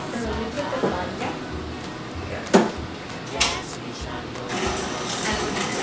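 A stand mixer with the paddle (leaf) attachment churns sugar for focaccia, a steady motor whir with gritty, gravelly scraping and a few clunks, while people talk over it.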